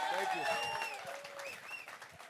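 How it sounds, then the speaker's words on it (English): An audience at a live stage conversation at Cannes claps in a broad, continuous round of applause, fairly distant, while a voice speaks over it. "Round of applause for the gentleman to my right."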